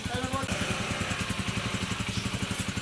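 A motorcycle engine runs close by with a steady, throbbing idle-like pulse throughout, its rhythmic beat holding at a constant loudness.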